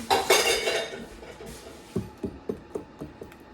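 Eggs being mixed into Texas sheet cake batter in a bowl, with a rustling, muffled stir at first, then a run of regular utensil knocks and clinks against the bowl, about one every quarter second.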